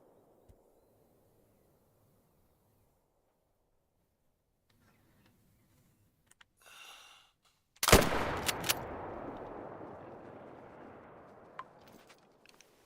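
Video game gunfire: after near silence, a sudden loud blast of shots erupts, followed by a decaying rumble and a few scattered later cracks.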